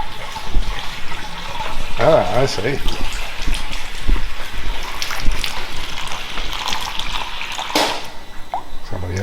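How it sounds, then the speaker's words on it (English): Water rushes from a tap through household plumbing, a steady loud gushing hiss that runs throughout, with someone speaking briefly over it. "So I'll go and turn the tap on round the front here,"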